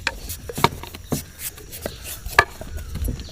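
A knife chopping papaya on a board: a handful of irregular, soft cuts and knocks, close by and unhurried.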